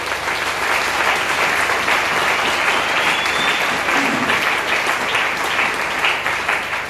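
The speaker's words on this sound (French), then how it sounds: "applaudissez pour vous-même" A church congregation claps together in a steady, dense round of applause that lasts the whole stretch at an even, fairly loud level, with a faint murmur of crowd voices underneath.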